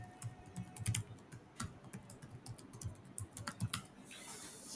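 Appointment booking details being typed on a computer keyboard: quick, irregular bursts of close key clicks with short pauses, fairly quiet and without talk.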